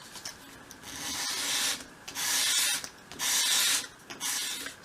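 A bevel is sanded into a small piece of wood for a 1/12 scale shop project, in four close, steady rubbing strokes separated by short pauses.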